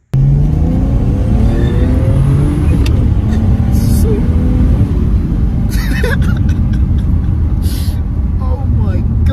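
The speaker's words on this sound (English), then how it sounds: "I'm probably gonna show you guys a clip of him actually driving the car" A manual BMW car rumbles loudly from inside the cabin, engine and road noise droning steadily with occasional revving, while people talk over it.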